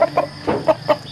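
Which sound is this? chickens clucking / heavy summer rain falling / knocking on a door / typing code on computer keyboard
chickens clucking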